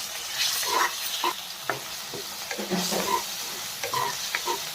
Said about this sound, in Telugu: తర్వాత కొంచెం అల్లం వెల్లిగడ్డ పేస్ట్ వేసి మంచిగా కలుపుకోవాలి